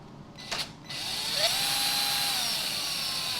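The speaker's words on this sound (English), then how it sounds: "what we have to do is remove this screw, which is a Torx 10" A power screwdriver backs a Torx 10 screw out of a Jura coffee machine: a short whirring burst, a brief pause, then a steady, close, high-pitched whine that runs to the end with no talking.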